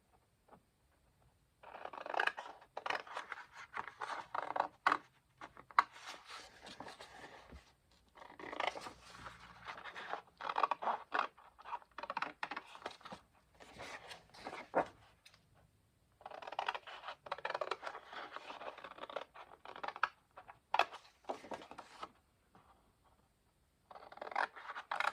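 Scissors cutting paper for a junk journal pocket, bursts of crisp snipping and rustling separated by quiet pauses, close and moderately soft, with no talk.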